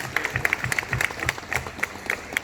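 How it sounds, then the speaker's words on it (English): Audience at a direct selling company event in Thailand clapping, uneven and fairly sparse, with distinct individual claps ringing out in an irregular rhythm rather than a dense roar. "I would like to give you all a very big round of applause, please"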